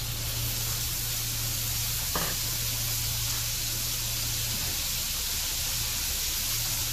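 Tomato halves sizzling in a hot cast iron pan, with a steady, even hiss of frying that holds at a moderate level throughout, with a faint low hum underneath.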